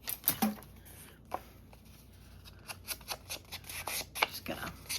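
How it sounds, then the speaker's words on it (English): Large scissors snip through a stamped tissue paper postcard in a craft session, giving a few faint, scattered cuts and rustles, close but quiet. "Should have tracked down my small scissors for this"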